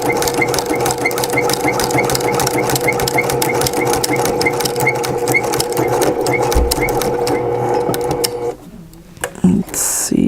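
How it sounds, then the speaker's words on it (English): A sewing machine stitches the loop side of a hook and loop fastener onto a homemade coupon wallet, running steadily and loud with rapid even needle pulses for about eight seconds, then pausing and giving a short final burst. "now I'm going to sew the bottom part of this section, of the loop section of the hook and loop"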